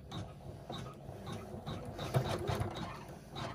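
A sewing machine tacks down the fabric of a stocking zipper bag with a steady, rhythmic, fairly quiet mechanical stitching pulse and no talking.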